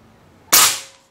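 A single sharp shot from a Bulldog OD 38 V2 PCP air rifle firing a heavy 13.6-grain Hercules pellet, with a loud, crisp crack that rises abruptly and fades over about half a second, heard alone.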